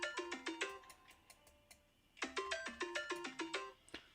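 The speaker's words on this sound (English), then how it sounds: "Alright, phone line's going off." A phone rings in two bursts of quick, bright, bell-like trills separated by a short pause, close and clear with no talking.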